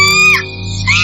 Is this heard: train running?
no